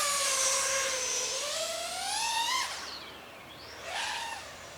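A small GEPRC Smart35 HD sub-250 g drone carrying a naked GoPro buzzes through the air, its high motor whine sweeping up and down in pitch as it throttles, fading and returning as it passes.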